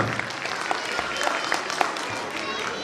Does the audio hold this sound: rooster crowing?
no